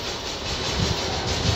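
Train passing through Suri railway station, a loud, continuous rumble with steady rolling wagon noise and faint low thumps of wheels over rail joints, close by and without talk.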